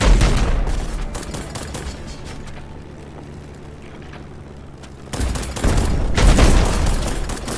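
Rockets launching and blowing up in the game Black Skylands, loud booming bursts at the start, a quieter rumbling lull, then a fresh volley of heavy explosions near the end; no talking.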